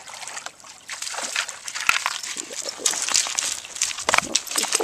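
A dog splashes and sloshes through cold water during a winter holiday bath, with continuous watery churning and splatter bursts close by and a voice speaking briefly.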